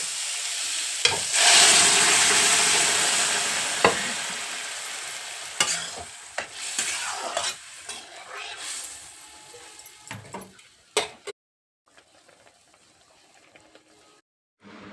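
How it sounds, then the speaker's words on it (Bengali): Boiled dal poured into a pan of spiced vegetables and stirred, giving a loud hiss and sizzle at first, then scraping and clanking strokes that fade toward quiet near the end. "এখন সেদ্ধ করা ডালটা দিয়ে দেবো।"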